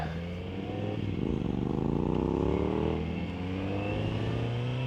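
A motorcycle exhaust revs up, its pitch climbing and falling twice in throaty bursts over a steady idling rumble, close by.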